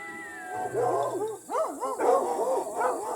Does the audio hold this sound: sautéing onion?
no